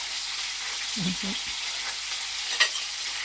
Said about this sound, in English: So now you're adding it to the meat while you finish cooking it off to time it.